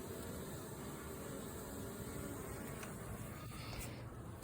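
Steady broadband hum of many honeybees buzzing together at a hive, continuous and close, with no voices.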